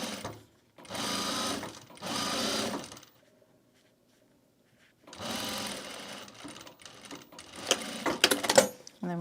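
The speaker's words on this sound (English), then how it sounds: "stitch all this down just to the pocket to itself. I'm going to go across the top, put this to a regular stitch length." A sewing machine stitches across the top of a bag in bursts of rapid, loud mechanical whirring, with a pause of near silence in the middle and then a longer run ending in scattered clicks.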